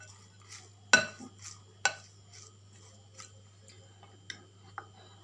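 An egg being mixed into vegetable paratha filling with a utensil, heard as a few sharp clicks and taps against the bowl, spaced irregularly and fairly quiet, with a low steady hum underneath.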